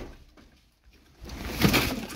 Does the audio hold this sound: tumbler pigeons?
yes